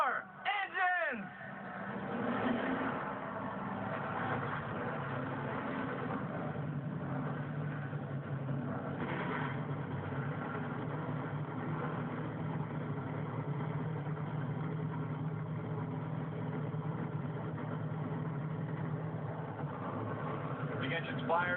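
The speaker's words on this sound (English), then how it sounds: "The engine's fired for the final time of the 2013 season." Race car engines idle steadily after the start command at a 2013 season finale race in Miami, a continuous mid-to-low rumble with a brief burst at the start and voices over the top.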